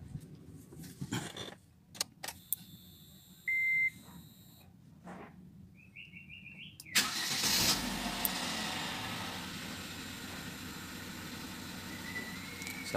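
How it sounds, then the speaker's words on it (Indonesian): Inside a Wuling Confero during a routine oil and filter change, several dashboard beeps sound, then the engine cranks and starts at about seven seconds and settles into a steady close idle. "kita sekarang hidupin mesinnya."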